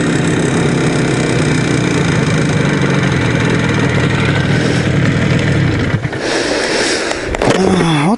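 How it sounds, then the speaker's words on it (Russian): An IZh Jupiter 5 motorcycle engine, warmed up after a cold start, idles close by with a steady, rough, throbbing note, followed near the end by a brief change in pitch. "Движок холодный был, когда я поехал. Сейчас-то он нагрелся маленько. Надо бы холостые"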